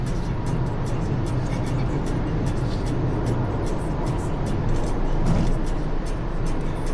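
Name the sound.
Toyota Vios car driving on the SCTEX expressway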